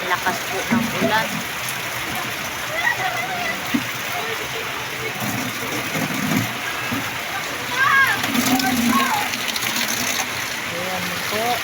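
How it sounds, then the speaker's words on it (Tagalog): Torrential rain from Typhoon Kristine pouring down in Malabon, a dense continuous splashing roar of water on surfaces, loud and close, with people talking and calling out over it. "Sobrang lakas po ng ulan."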